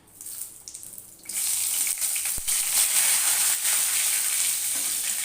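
Two bay leaves hit hot oil in a pan alongside fried lentil dumplings on a low flame, bursting into a loud, steady sizzle after a quieter start, with a brief clink partway through and no talking.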